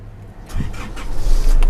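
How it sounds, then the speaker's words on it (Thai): A 2008 Isuzu D-Max pickup with a 2.5-litre diesel engine cranks briefly and fires up, the engine catching within a second and settling into a loud, close, rising idle clatter. "ฟังเสียงเครื่องยนต์กันทีนี้นะฮะ"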